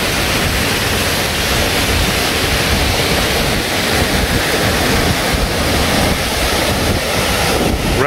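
A loud, steady rush of a rain-swollen stream in a farmer's field fills the whole stretch, a constant churning roar mixed with some wind noise.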